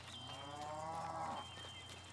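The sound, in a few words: cows mooing in the distance in a video game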